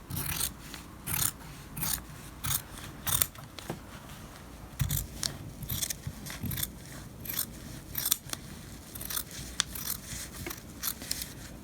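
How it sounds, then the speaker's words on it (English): Scissors cut through four stacked layers of fabric for a face mask, giving a steady series of crisp snips and rasping blade strokes at close range, fairly quiet, with no talking. "I've actually got my fabric stacked 4 times right now so that I can get a bunch cut at once."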